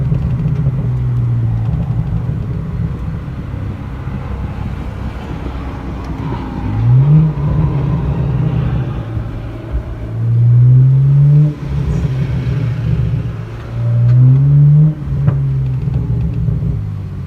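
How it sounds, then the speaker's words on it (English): A BMW E90 335i with a muffler delete drones at low pitch while driving, rising in several revving swells. The loud exhaust rumbles close throughout, but no sharp backfire pops stand out. "These backfires, oh my god, they're making me so giddy"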